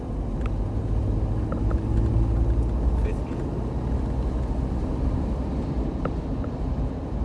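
A 2001 Toyota Land Cruiser Prado GXL accelerates in fifth gear from about 60, a steady low engine and road rumble heard from inside the cabin, with a few faint clicks and no speech.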